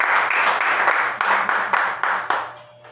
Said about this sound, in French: tu acclames encore une fois de plus pour la gloire